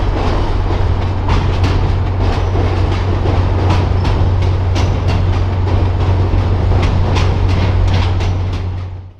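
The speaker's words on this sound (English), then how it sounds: "After serving Montreal, the corridor train now makes their backup move to head back for the main line and continue west." A corridor passenger train makes a slow backup move at Montreal Central Station, its steady low engine drone joined by a regular clickety-clack of wheels over rail joints, loud and close, fading slightly at the end.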